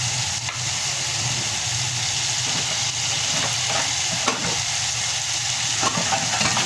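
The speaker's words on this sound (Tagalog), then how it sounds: "lagyan na natin yung sauce kanilang ginamit natin mag-marinate sa kanya. Ibabalik na natin dyan" Marinade sauce poured into a pan of chicken adobo gives a loud, continuous sizzle and bubbling hiss that stays close and steady throughout, with faint stirring clicks.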